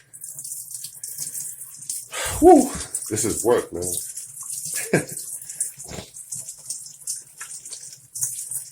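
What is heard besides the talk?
water draining from an open faucet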